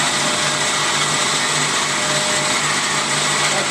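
An Amada HA 250 bandsaw runs at top speed cutting a roughly 3.5-inch piece, a loud continuous even whine and hiss with a low steady hum beneath, no talking.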